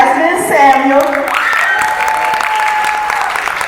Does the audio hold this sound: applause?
yes